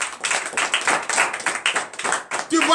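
A church congregation at a morning prayer service in Comè, Benin, claps in acclamation, a dense run of quick hand claps through the whole stretch with voices mixed in.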